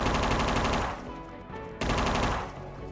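Loud machine gun fire from the retro stealth-parody game UnMetal: a dense burst of rapid shots that stops briefly, then resumes at full force about a second later.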